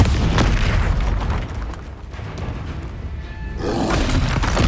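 In the video game Hogwarts Legacy, the Bombarda spell goes off as a loud, rumbling blast that fades into a low roar, then swells again toward the end.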